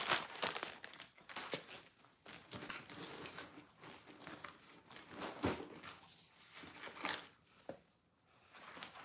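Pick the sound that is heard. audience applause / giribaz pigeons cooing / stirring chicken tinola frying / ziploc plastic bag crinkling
ziploc plastic bag crinkling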